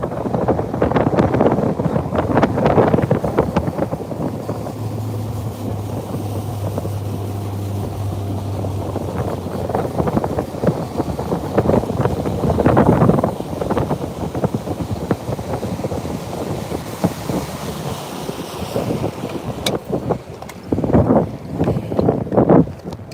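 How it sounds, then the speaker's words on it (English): Wind gusting across a lake around a bass fishing boat, a constant rough rumble and buffeting against the microphone that swells and dips throughout with no talking. "All right, you guys hear that wind? The wind has picked up."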